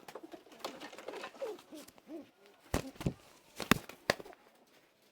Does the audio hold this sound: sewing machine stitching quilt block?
no